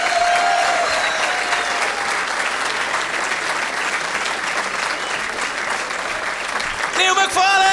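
Comedy club audience in Torquay applauding loudly and steadily, a dense wash of clapping with scattered cheers that holds throughout.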